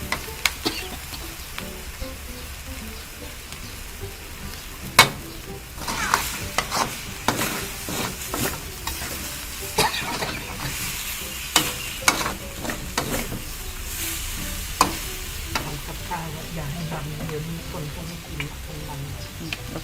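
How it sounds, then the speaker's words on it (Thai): Shark fish stir-fries in a wok with a spatula scraping the bottom, a continuous loud sizzle broken by repeated metallic scrapes and clanks, with intermittent voices talking over it. "มันขูดก้นกระทะด้วย เดี๋ยวมันจะไหม้ใช่ไหมครับ"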